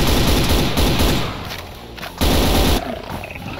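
Rapid bursts of heavy gunfire from an auto shotgun in the video game Brutal Doom, loud and close, with sharp repeated blasts in quick succession and brief lulls between volleys.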